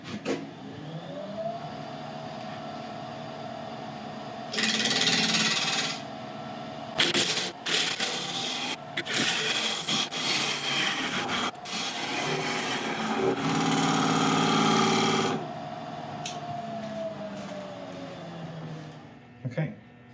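A lathe spins up with a steady motor whine while a woodturning tool cuts along the edge of a burl, giving bursts of loud scraping and rough chattering before the machine winds down; a person talks at times.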